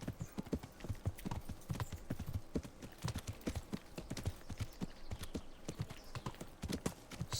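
Horse hooves in Kingdom Come: Deliverance clip-clop steadily across the hills, with a quick, even rhythm that sounds close and moderately quiet and continues throughout.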